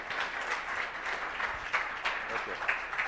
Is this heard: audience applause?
yes